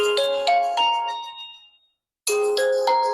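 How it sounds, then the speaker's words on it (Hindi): An Oppo A18 phone plays a bright chiming ringtone of bell-like notes, one phrase fading out before the melody starts again, loud and close with no talk. "मैं आपको साउंड भी इस कैमरे की, इस फोन की सुनाता हूँ।"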